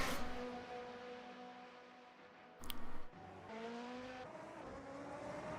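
A race car in an F1 racing video game screams through gears with tires squealing and burning, engine pitch climbing in repeated upshifts, a brief harsh burst of skid noise in the middle, no one talking.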